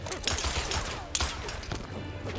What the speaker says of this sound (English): he's trying to dodge these gunshots